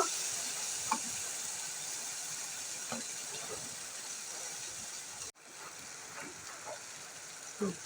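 Ginger, chilli and a paste of ground coconut and nuts frying in a pan, a steady close sizzle with occasional stirring taps, briefly cut off midway before resuming.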